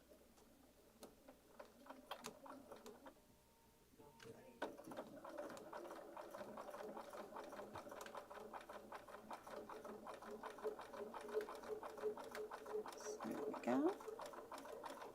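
A sewing machine stitches binding onto fabric in a steady, fast mechanical clatter that starts after a quieter opening and grows denser and louder, with a person talking over it.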